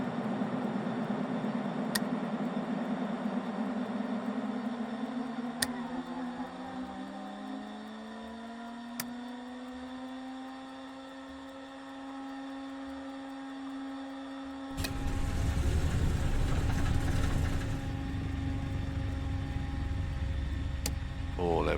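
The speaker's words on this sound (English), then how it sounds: "We have a good start on the right engine." Aircraft right engine spinning up on start, a rising whine that climbs and settles into a steady drone, then a louder roar joins as it catches, with occasional clicks and voices over it.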